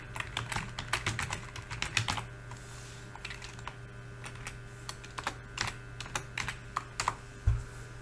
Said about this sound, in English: I'll type get rich quick.